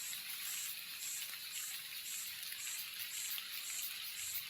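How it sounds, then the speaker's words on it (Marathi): The first rain of the season in a forest hisses down continuously, a dense even patter with no voices, fairly soft overall. "पाऊस तर पडायला सुरुवात झालेली आहे जोरात जोरात"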